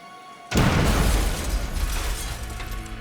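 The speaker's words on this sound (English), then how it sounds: "The explosion seriously injured the assistant and blew out the hearing of Dr. McConnell" A package bomb detonates indoors, a sudden loud blast that bursts in after a quiet moment and decays into a long rumbling, crackling tail.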